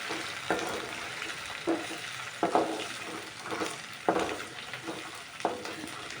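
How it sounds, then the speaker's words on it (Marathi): Okra (bhindi) fries in hot oil in a pan for a spicy masala dish, giving a close, constant sizzle broken by periodic stirring scrapes and bursts of crackle, with no talking. "आणि याला पण थोडा वेळ तेलामध्ये तळून घेऊ."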